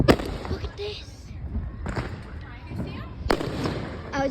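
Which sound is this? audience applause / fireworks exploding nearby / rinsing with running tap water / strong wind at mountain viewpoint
fireworks exploding nearby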